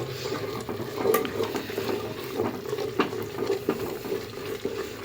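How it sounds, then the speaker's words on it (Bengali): Spinach frying in a pan with chicken about to go in, a steady low sizzle with scattered stirring scrapes and clinks, close and continuous with no talk. "এখন পালং শাকটা জাস্ট একটু কাঁচা গন্ধটা যাতে চলে যায় ততক্ষণ পর্যন্ত একটু ফ্রাই করব।"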